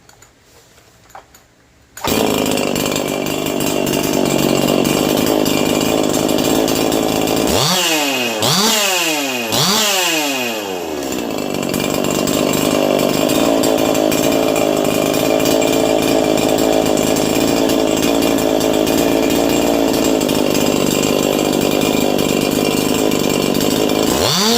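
A 4910 build chainsaw engine, rough-tuned with no muffler modification, revs loudly and steadily for a long stretch, with a few sharp rising-and-falling throttle blips partway through before settling back into a constant buzzing drone.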